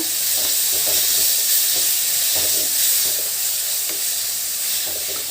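Tomato frying in a pan for an Andhra-style red amaranth curry, a constant sizzling hiss with intermittent scraping stirs, close up and steady, with no voices.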